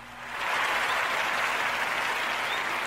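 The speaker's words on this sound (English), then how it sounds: "Round of applause" Dense, steady applause swells in within half a second and holds loud and even to the end, with no voices over it.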